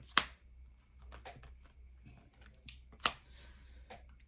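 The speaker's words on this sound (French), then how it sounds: "je remets 2 cartes" Two crisp card slaps land on a table during a tarot reading, one near the start and one about three seconds later, with soft shuffling and handling rustle between them and no talk.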